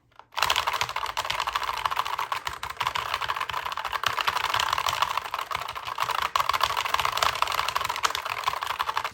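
Gateron red switches on a DOIO Hitpad metal hitbox controller being pressed rapidly, giving a steady, close stream of quick plastic clacks and taps with no pauses, alone without talk.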